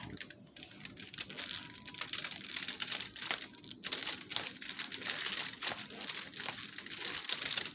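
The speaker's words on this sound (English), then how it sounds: "See how I folded this in half? You can see the wide part of the crimp, and I'm folding that crimp itself in half." A sealed cooking wrap around beef ribs for oven braising is folded and crimped by hand, producing close, continuous crinkling and crackling with irregular sharper rustles throughout.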